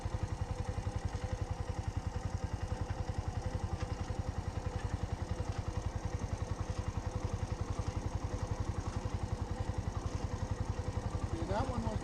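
Motorcycle engine running steadily at low speed with a rapid, even pulse throughout, heard close during a first riding lesson on a course with orange cones; brief voices come in near the end.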